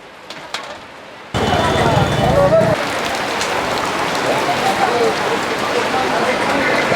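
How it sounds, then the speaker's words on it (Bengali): Steady heavy rain roars across the scene after a brief quieter start, a dense continuous wash of patter close by. "যেহেতু বৃষ্টি হচ্ছে বাজার থেকে বের হওয়ারও উপায় নাই"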